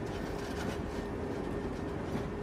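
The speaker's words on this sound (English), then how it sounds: "After 2 days of sightseeing, the train sets off again." An Orient Silk Road Express passenger train pulling out of a station, giving a steady low rumble of rolling wagons with a constant broadband hiss and no distinct clacks, quiet and continuous throughout.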